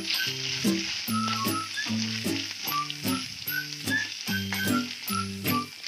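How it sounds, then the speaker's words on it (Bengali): Coconut frying in a pan after a fish head, for muri ghonto: a steady hiss of hot oil, with short rhythmic musical tones repeating underneath at an even pace. "নারকেলটা ভাজবো।"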